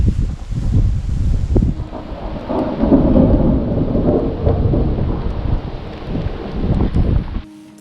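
Heavy rain drums on a tent on a mountainside, with a dense steady patter, low thunder-like rumbles and wind buffeting close to the microphone.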